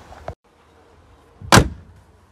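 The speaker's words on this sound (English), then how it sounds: "Proper door shut sound." A short thump early on, then a solid, close slam of a 1983 Triumph Acclaim HL's door shutting, followed by quiet.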